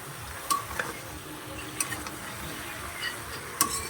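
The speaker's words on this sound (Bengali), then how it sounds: "এবার ভালো করে নাড়তে হবে।" Fish curry stirred in a pan, faint scraping over a low simmer with a few isolated clicks of a spoon on the metal, close by and with no talking.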